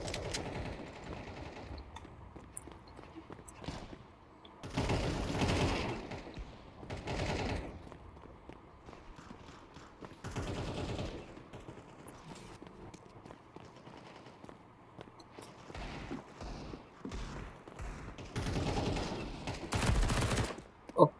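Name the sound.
gunfire in Counter-Strike 2 video game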